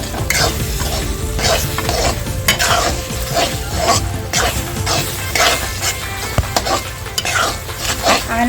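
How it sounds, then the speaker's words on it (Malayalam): Mango varattiyathu being stirred in a pan after ghee is added, with a steady scraping and sizzling that runs close and continuous, broken by occasional spoon knocks against the pan. "ഇതിലേക്ക് ഇനി അല്പം നെയ്യ് ചേർത്ത് കൊടുക്കാം."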